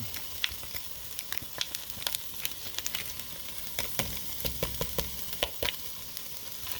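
Six cloves of garlic sizzle and fry in a pan for a shepherd's pie, with steady close crackling and scattered sharp pops and scrapes as the garlic is stirred, no voices over it.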